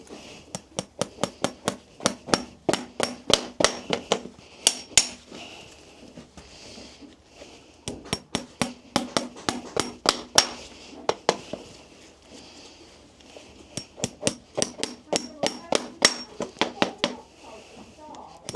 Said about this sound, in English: The nailing on part becomes effortless, really.